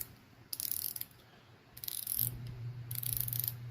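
Unidirectional dive-style bezel on a watch with a screw-down crown and sapphire crystal, turned in three short bursts of fine, crisp ratcheting clicks, close and quiet, with a low hum running underneath.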